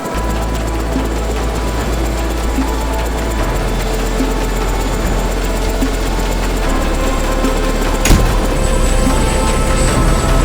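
Steady heavy engine drone, as of a military aircraft running, fills the scene as a continuous loud low rumble with a brief sharp transient near the end.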